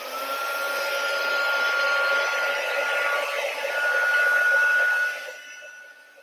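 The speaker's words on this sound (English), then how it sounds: "Okay, so I've got my embossing tool at the ready." An embossing heat tool used to heat set embossing powder on a stamped botanical card gives a steady, fairly loud blower hum with a high whine, running continuously for about five seconds before cutting off.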